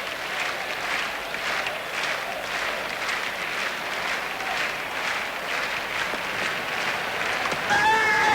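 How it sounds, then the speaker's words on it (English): A large crowd at a New Zealand versus Australia one-day cricket match claps in steady rhythmic waves and chants, a dense roar from a distance, with a brief whistle near the end. "The crowd clapping and chanting for blood."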